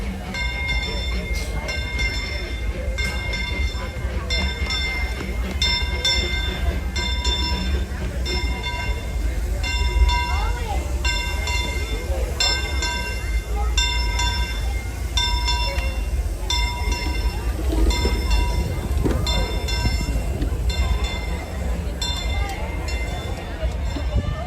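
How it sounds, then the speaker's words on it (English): Disneyland Railroad steam train rolling through the park during its 70th anniversary, a steady rumbling pass with clanking cars and a brief squeal, continuous and moderately close amid crowd noise and a speaking voice. "Here comes the Disneyland Railroad train coming through."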